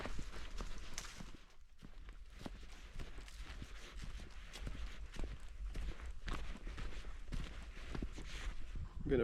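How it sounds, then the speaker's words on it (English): Horses walking on a rocky Appalachian mountain trail, a steady run of hoof clip-clops at close to moderate distance over quiet forest ambience, with no talk. "Horses."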